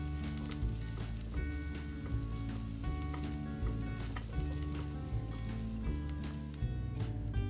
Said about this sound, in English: on low to medium flame, we will saute the onions and garlic till they turn golden